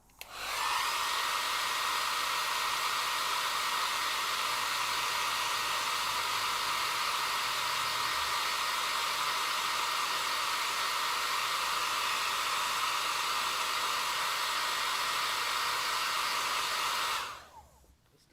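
A cheap hair dryer blows steadily at full power on a plastic decal for several seconds, a loud, even whooshing hum that cuts off abruptly at the end.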